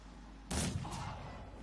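A gunshot in the video game Mordheim, one sharp crack followed quickly by a second report that trails off, with no talk over it.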